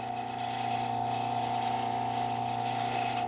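A Scotch-Brite pad rubbed back and forth along a Calphalon kitchen knife edge to remove the burr, giving a steady, continuous abrasive scrubbing with no pauses, close and moderately loud.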